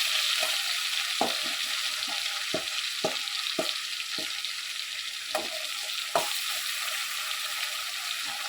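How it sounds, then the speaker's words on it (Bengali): Hilsa fish pieces frying in hot mustard oil give off a steady, close sizzle with scattered sharp pops and spits throughout, and no one speaks. "মাছগুলো আমি হালকা করে এবার ভেজে নিচ্ছি।"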